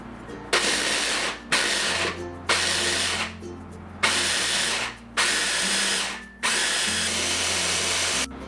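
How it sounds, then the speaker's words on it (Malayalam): A mixer grinder coarsely grinds soaked chickpeas with pepper, baking powder, salt and lemon juice for falafel, whirring loudly in about six short pulses separated by brief stops. "ഇത് തരിതരിപ്പായിട്ട് അരച്ചെടുക്കാം"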